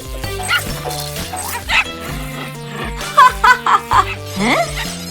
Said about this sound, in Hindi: बदमाश कुत्ता